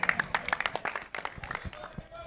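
Scattered audience clapping at a village cricket match, a quick burst of claps near the start that thins out, mixed with a talking voice over the crowd.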